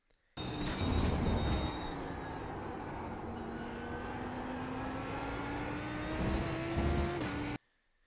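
Lamborghini GT3 race car engine in the iRacing video game at Hockenheimring, a loud sustained drone with a rising engine pitch through a long pull, surging louder at the start and again near the end before cutting off.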